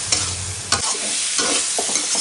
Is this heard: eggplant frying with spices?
yes